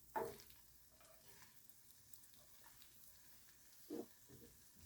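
Frozen breaded fish filets fry quietly in a pan during off-grid cooking, a faint steady sizzle with two brief louder crackles near the start and end.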